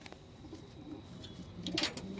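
A pigeon cooing, soft low coos near the end of a short quiet stretch, faint and close.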